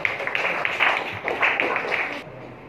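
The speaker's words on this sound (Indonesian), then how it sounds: "tepuk tangan untuk kelompok 3" A classroom claps for group 3, a short burst of several pairs of hands beating quickly and unevenly for about two seconds before it abruptly stops.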